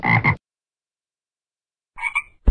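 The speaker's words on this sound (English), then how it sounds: "Frog." Two short frog croaks sound clearly, one at the start and a pair near the end, separated by a long stretch of silence.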